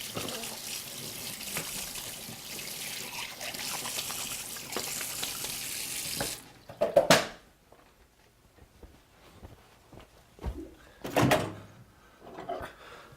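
Water from a kitchen tap runs steadily into a sink for about six seconds while fingers are rinsed, then cuts off, followed by a few knocks and brief rattling handling sounds nearby.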